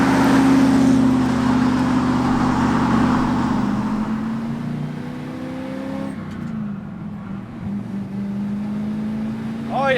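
A 1968 Dodge Dart with a 5.2-liter four-barrel carbureted V8 and swapped four-speed manual drives under load, its loud engine drone holding steady, then dipping briefly around a shift before pulling again.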